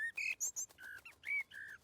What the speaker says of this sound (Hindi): वो चिड़िया हमें थैंक्स बोल रही है।